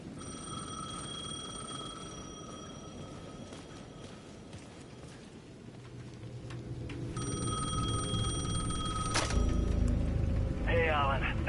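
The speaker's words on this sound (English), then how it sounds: "The payphone at the edge of the plaza was ringing again." A payphone rings repeatedly in the Alan Wake 2 video game, a bright electronic bell sounding in bursts at moderate distance over low rumbling ambience and footsteps.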